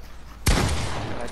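A sudden burst of gunfire erupts after a brief quiet, sustained rapid shots rattling on at close range.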